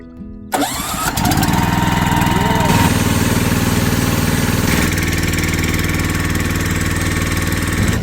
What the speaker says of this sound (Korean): 자 이렇게 트랙터 뒤에 짐칸에 싣고서 지금 마늘밭에 약치러 갑니다